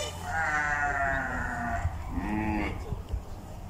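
Goats bleating at a goat farm, several drawn-out harmonic calls overlapping one after another, close and loud over a steady farmyard background.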